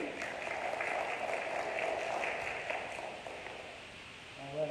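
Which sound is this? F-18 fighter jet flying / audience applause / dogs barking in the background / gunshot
audience applause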